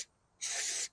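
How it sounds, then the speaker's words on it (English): A single half-second burst of brake cleaner hisses close and loud onto Duramax diesel injector parts from a high-mileage dually pickup, with no talk. "I don't even know if I should be spraying this with brake clean"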